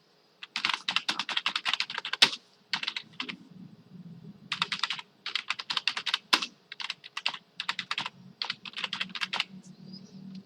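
Close typing on a computer keyboard during Debian server setup, quick bursts of clicking keystrokes with short pauses and an occasional heavier key press, over faint room hum.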